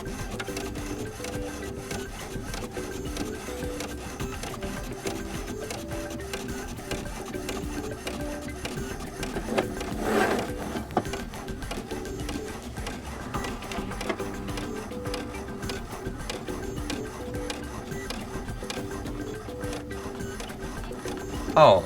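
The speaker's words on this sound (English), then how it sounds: "I don't know what this printer wants to print" An HP Ink Tank Wireless 410 inkjet printer runs through a page, its steady mechanical whir and repeating carriage tones continuing close by, with a brief louder clunk midway and another near the end.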